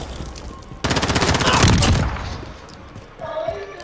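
Video game gunfire bursts out suddenly as a rapid, loud automatic fusillade lasting about a second, then fades into lower background game noise.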